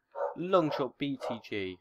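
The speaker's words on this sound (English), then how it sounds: "sorry if you can hear my dogs barking" Dogs bark in the background of a room while someone talks over them during a Minecraft Xbox gaming session. The barks are short, close and mixed with his voice.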